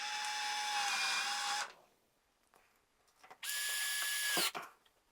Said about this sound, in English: And now just add our 2 screws.